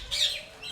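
A pet parrot lets out a single short, close squawk with a brief higher chirp at the end, over in under a second.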